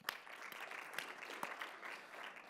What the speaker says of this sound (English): So let's give Ben a quick round of applause.